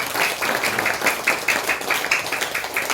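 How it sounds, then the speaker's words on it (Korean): A church congregation at a Sunday worship service claps for a student, a steady, close crowd applause with a rhythmic pulse running the whole way through. "우리 규민이 위해서 박수 한번 하겠습니다."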